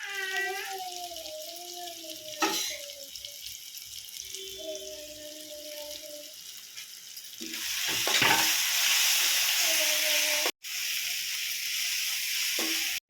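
Tomatoes cooking in a pan for paneer curry, a soft sizzle that builds to a louder, denser frying hiss in the second half, with brief clinks and pauses along the way.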